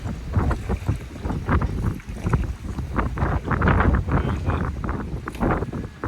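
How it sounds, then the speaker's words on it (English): Wind gusts steadily around a Nordhavn N76 motor yacht on open water while flopper stoppers are being deployed, a loud continuous rushing buffet with pulsing surges across the whole stretch and no talking. "And that's a little windier than I like to do it."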